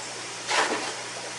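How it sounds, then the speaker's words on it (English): A big gar in an aquarium slaps the water once, a short splashy burst over the steady hum of pumps and water flow in a fish room. "that water slap that the big gar just did"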